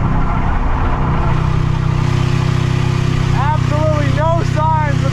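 Engine of a car running laps with diesel fuel in place of its engine oil, a steady loud drone heard from inside the cabin, with a voice speaking over it near the end.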